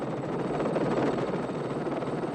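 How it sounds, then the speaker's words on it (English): A gunship helicopter flies steadily overhead, its rotor and turbine producing a loud, continuous broadband roar that holds even throughout, with no voices over it. "The helicopter, it's a gunship."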